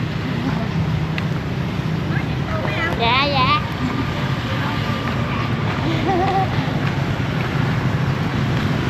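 A motorboat rides along a river in Chau Doc, An Giang, its engine and wind rumbling steadily throughout, with a person speaking briefly over the noise.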